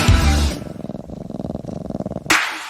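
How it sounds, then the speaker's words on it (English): A cat purrs close up in a steady, rhythmic series of low pulses lasting a couple of seconds, framed by louder broadband bursts at the start and end. "Love it when I hear ya purr."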